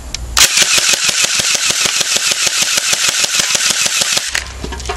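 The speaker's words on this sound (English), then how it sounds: "But I actually like this machine gun." A battery-powered toy machine gun fires a steady rattling burst of about twenty fast, evenly spaced clicks for roughly four seconds, loud and close, with a short mechanical whir before and after.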